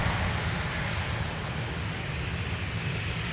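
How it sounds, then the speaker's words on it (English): An Airbus A330-900neo airliner at the Minneapolis–Saint Paul airport gives off a steady, distant broadband jet rumble with a low roar, even and unbroken throughout with no talking. "Face to face with the A330 900 Neo."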